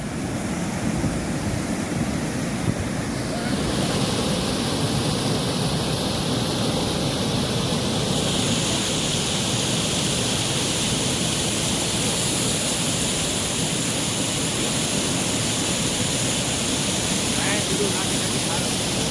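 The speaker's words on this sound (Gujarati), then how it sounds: "આ છે ભાઈ ગુંદવણીનું નાળું અને અત્યારે ફૂલ ઓવરલોડમાં જાય છે" A flooded stream, running overfull after heavy rain, rushes in a loud, continuous roar of churning water that stays steady and close throughout.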